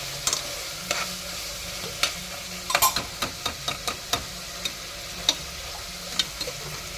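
Turmeric and chili frying in oil on a stovetop give off a soft, steady sizzle, while a spoon scrapes and taps the pan in a string of sharp clicks.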